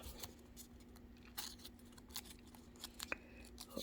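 Scissors snipping through paper while a paper rose is shaped, giving a few faint, quiet crisp cuts over a steady low hum.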